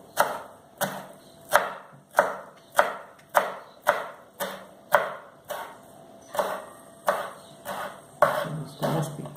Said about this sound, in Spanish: Lo estamos picando muy bien.